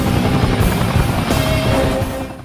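A helicopter in an Indian action film roars loudly and steadily nearby, its rotor and engine drone filling the sound before easing off at the end.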